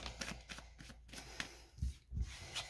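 Cards drawn and handled from a deck in a tarot-style reading, a quiet close run of soft papery slides, flicks and taps, faint and irregular with no voices.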